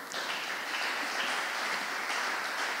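An audience applauds at a school award ceremony, a steady even wash of clapping from a fairly small crowd, heard alone for a few seconds.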